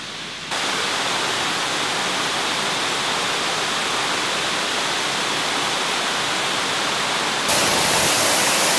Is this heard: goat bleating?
no